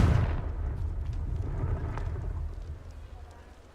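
A booming explosion from the Confringo fire spell in the video game Hogwarts Legacy bursts loudly at the start, then a rumbling tail slowly fades away.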